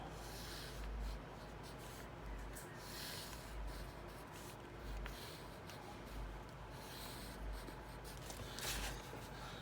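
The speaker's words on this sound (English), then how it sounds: "And I'll write it in pen." Pen scratching on paper while working a math problem, faint and close, in short repeated strokes with brief pauses between them.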